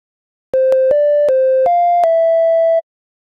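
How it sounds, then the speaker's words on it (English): A short melody of pure sine-wave tones generated from math functions on a graph, about seven steady electronic notes of different pitches played one after another, loud and clean with no other sound. "I can now play a song, using nothing but math"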